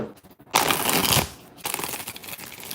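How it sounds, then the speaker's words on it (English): Rider-Waite tarot cards are shuffled by hand in two loud, papery bursts with a short pause between, heard close up. "6 shuffles for Kay"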